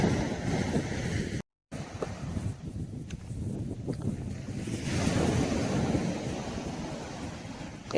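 Sea waves wash onto the beach at South Shields on a stormy, windy day, a continuous rushing surf mixed with wind buffeting the microphone, with a brief dropout early on.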